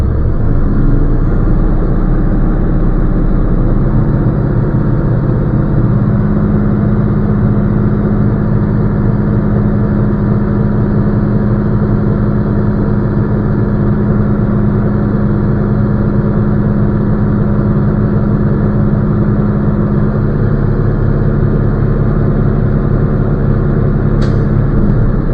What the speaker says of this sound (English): I'm going to pull my parking brake or rev my engine up to do a governor test.